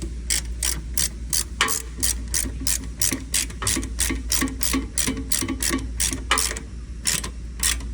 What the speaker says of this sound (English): Tighten that bolt up.